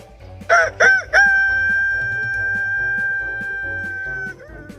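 A rooster nearby lets out a few short, sharp calls, then one loud, long, drawn-out crow that holds steady for about three seconds before trailing off.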